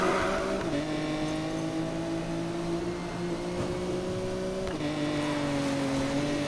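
Nissan Skyline engine note in the video game Need for Speed Payback, a steady loud drone with smooth harmonic tones that shift pitch slightly as the car drives, holding continuously without voices.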